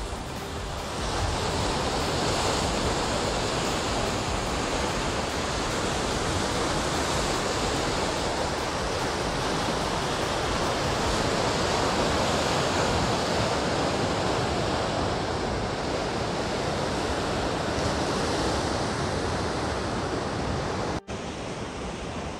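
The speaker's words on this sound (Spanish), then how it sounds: "con la playa, el mar de fondo y esa playa de la isla que también se puede ver detrás de mí" Sea waves wash onto La Espasa beach at Caravia, Asturias, a steady broadband surf roar holding loud and continuous throughout, with some wind noise and no voices.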